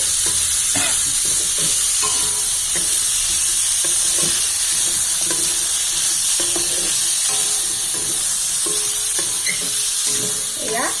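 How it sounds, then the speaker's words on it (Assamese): Carambola chutney is stirred in a hot pan after salt goes in, giving a loud, continuous sizzle with repeated scraping strokes and small taps from the spoon, close up and unbroken throughout. "এইখিনি লৰাই দিম নিমখটো দিয়াৰ পিছতে।"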